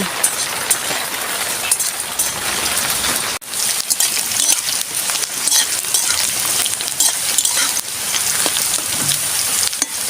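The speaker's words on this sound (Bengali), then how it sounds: "দেখুন বন্ধুরা, বৃষ্টি হচ্ছে।" Rain falling steadily outdoors, a dense, loud hiss of drops on surfaces with scattered sharper patters, continuous apart from one short dip.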